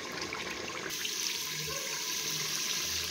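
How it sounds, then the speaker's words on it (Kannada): Pre-heated hot water is poured steadily into a cooking pot while making chicken biryani, a continuous splashing, hissing stream heard close and alone at moderate level. "ಇವಾಗ ನೀರು ಹಾಕ್ತೇನೆ"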